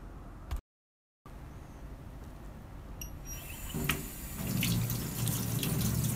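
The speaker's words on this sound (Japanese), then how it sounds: "まずはしっかりと水で手を濡らします。" Hands being wet under a running kitchen or bathroom tap during careful handwashing for infection prevention: a steady hiss of flowing water that grows fuller and louder partway through, with no talking.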